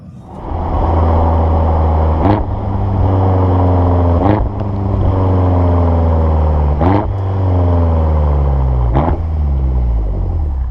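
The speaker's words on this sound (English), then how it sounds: "that blipping on the throttle" A 580 bhp BMW X6M F86 SUV engine drones steadily under load, with four sharp, loud throttle blips as it drops gears, each one followed by rising and falling revs.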